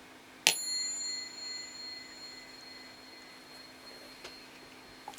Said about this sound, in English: Okay, so ringing the bell here.